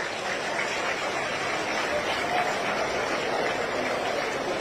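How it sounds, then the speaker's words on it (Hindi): Steady, dense applause from a crowd at a government welfare-scheme launch ceremony with the Chief Minister, filling the whole stretch at an even level with a faint voice underneath. "आप सबकी तालियां मंच तक आती रहे।"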